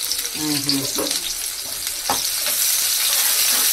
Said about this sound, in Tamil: அந்த வெங்காயம் பாருங்கள் ஓரளவுக்கு வதங்கிச்சு